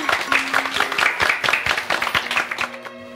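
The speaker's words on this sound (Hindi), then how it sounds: "भाई जलेबी भाभी के लिए जोरदार तालियां बजाएं" Lively audience applause, dense and fairly close, with rapid overlapping claps that continue steadily before tapering off near the end, a faint tonal hum running underneath.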